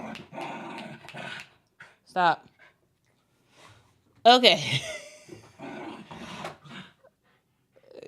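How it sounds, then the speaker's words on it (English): Playful growling and short whiny yelps from dogs roughhousing together, coming in a few sharp bursts between stretches of a person talking nearby. "these dogs are just playing"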